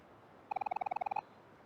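Quick series of roughly fourteen bright, evenly spaced bird chirps, close and clear, standing alone against quiet background, as outdoor birdsong heard through a window in the video game Omori.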